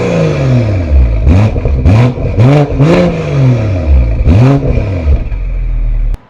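BMW M340i straight-six revved hard in a series of sharp blips, about five loud rising-and-falling bursts over a steady idle, the last one settling back before the engine cuts off abruptly.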